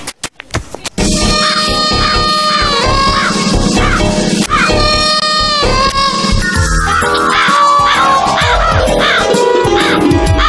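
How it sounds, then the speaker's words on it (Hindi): Crows caw loudly and repeatedly in a dense, overlapping chorus of harsh calls, close and continuous amid busy background noise, in a comedy film scene set in an operating theatre. "कौवा काव काव कर रहा है"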